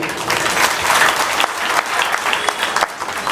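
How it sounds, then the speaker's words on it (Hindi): Loud, sustained applause from an audience at a political gathering of the Bharatiya Liberal Party, dense clapping filling the whole stretch without a break. "आपके लिए जोरदार तालियां"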